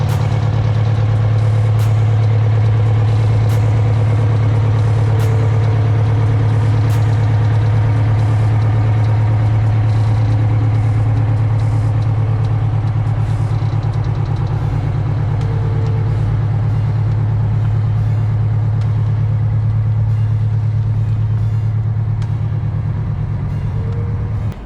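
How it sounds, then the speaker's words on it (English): A Detroit Diesel super turbo two-stroke engine idles in an MCI MC7 coach, a steady deep drone that holds close and even from start to finish with no voices. "you can still tell it's a Detroit diesel super turbo 2-stroke, but it doesn't quite have that same guttural, deep, low grunt as she sits there and idles"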